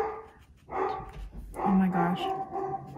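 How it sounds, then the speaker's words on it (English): A dog barks at someone arriving at the front door of a house, a few loud, close barks mixed with voices talking in the room. "there goes my dog because there's someone at the door"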